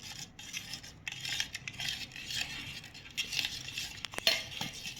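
A spoon stirs and scrapes through pickle ingredients in a bowl, producing irregular clinks and wet scraping strokes up close, with a few sharper metallic taps near the end and no speech.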